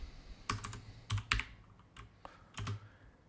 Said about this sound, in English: So the mirror command, you can type the word mirror,